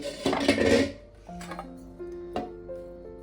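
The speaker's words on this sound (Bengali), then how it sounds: "এবার আমি ঢাকা খুলে আপনাদেরকে দেখাচ্ছি" A lid lifted off a pot of mixed Schezwan fried rice, with a close metallic scrape and rattle followed by a few light clinks of cookware, alone and without talk.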